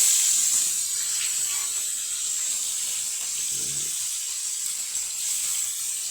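Fish frying in hot oil gives off a constant bright, close hiss that stays steady throughout, with a faint low clatter partway through and no talking.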